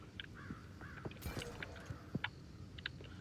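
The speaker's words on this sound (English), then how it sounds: "Hear the birds in the background." Several crows caw intermittently at a distance over a soft outdoor hush in the woods of the video game Path of Exile 2.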